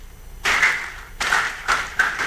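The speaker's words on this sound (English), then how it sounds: "Allow me to ask yourselves to clap for yourselves." Primary school head teachers at a national conference clap for themselves in a few short, uneven bursts of applause in a large hall, with quiet gaps between them.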